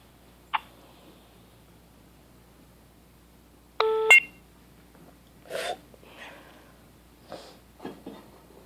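A telephone gives short electronic beeps signalling another incoming call, a few brief tones spaced apart against a quiet background with faint small noises in between.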